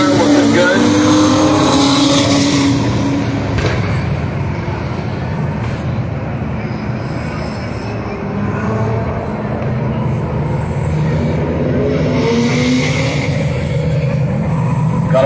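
Race cars at Agassiz Raceway give off a loud, continuous engine roar that swells and eases slightly, with a faint voice underneath.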